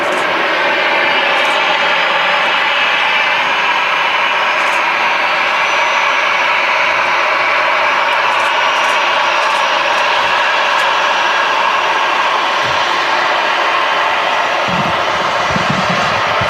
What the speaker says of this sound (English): very smooth landing on that one